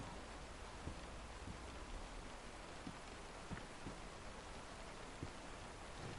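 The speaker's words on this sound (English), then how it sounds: "It wouldn't be such a problem if it wasn't raining." Steady, faint rain falls in the DayZ video game, a continuous hiss with occasional soft drop ticks and no voices.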